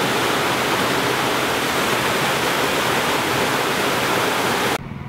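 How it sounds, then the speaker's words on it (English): A small waterfall roars steadily and loudly up close, a dense continuous rush of falling water that cuts off abruptly just before the end. "My childhood waterfall."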